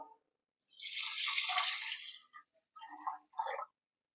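Water pours into a pressure cooker in a steady splashing stream for about a second and a half, followed by a few short trickles and drips, close and alone.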